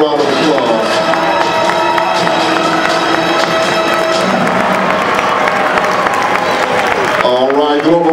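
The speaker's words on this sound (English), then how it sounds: "Let's see if we can get them on stage for one more round of applause" An audience at the Global Winter Wonderland lantern festival in Atlanta applauds and cheers for a Chinese acrobatic troupe, steady loud clapping and crowd noise under a host's amplified voice and music.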